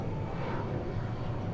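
A jet aircraft passes overhead, a steady broad roar that fills the scene evenly at moderate loudness, heard outdoors beside a parked Chevy truck.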